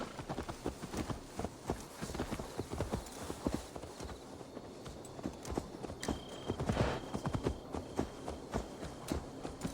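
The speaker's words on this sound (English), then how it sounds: "Let's return the horse" Horse hooves clip-clopping in Assassin's Creed Valhalla, a steady rhythmic run of hoof strikes on hard ground with a faint ambient bed behind, no voices.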